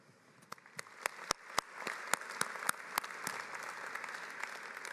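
Scattered clapping starts at a university commencement ceremony, a few sharp individual claps building into steady, moderate audience applause.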